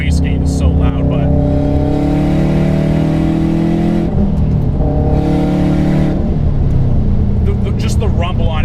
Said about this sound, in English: The Tomei exhaust paired with the Grimspeed downpipe, it's that classic rumble,